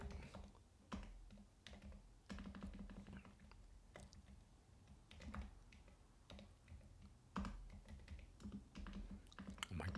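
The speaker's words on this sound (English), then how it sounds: "I can't type." Keys clatter on a computer keyboard in irregular bursts of close clicks with short pauses between, no voices present.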